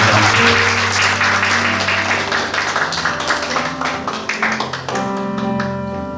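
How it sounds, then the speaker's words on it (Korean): Congregation clapping together at a joint church worship service, loud rhythmic applause over sustained organ or keyboard chords, the clapping thinning out as the held music continues. "우리 하나님께 박수의 영광 올려드리도록 하겠습니다"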